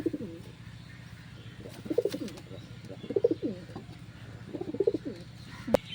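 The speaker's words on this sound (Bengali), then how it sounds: "এই কবুতরটা আমার বাড়ির সেরা কবুতর, পায়রি কবুতর।" A domestic pigeon coos close by in soft, rolling bursts that repeat every second or so over a low steady hum, with a faint voice in the background.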